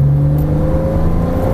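A Porsche Cayman S accelerates hard on a race track at Folembray, its engine note loud and close, rising steadily over a short burst with no talking.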